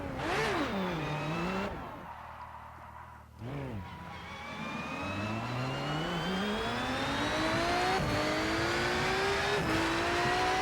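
A race car in the RennSport racing game accelerates hard, the engine note climbing through the revs, briefly cutting at a gear change, then rising steadily again to a loud, sustained high-pitched whine.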